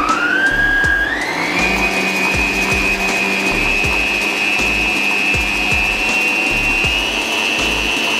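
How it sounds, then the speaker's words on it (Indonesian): An electric mixer beats eggs, sugar and vanilla cream for a rolled lapis legit cake batter with a loud, steady motor whine that climbs in pitch after the first second, over a faint rhythmic knocking from the beaters. "telur, gula, vanilla cream dikocok sampai mengental."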